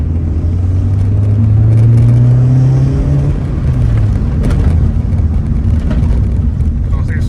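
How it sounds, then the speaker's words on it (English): A stripped-down MG ZS 180 with a big rear exhaust and no number plates accelerates along a road, its engine drone climbing steadily in pitch and then easing off, loud and close, with a voice speaking over it. "Big exhaust on the back is not overly noisy"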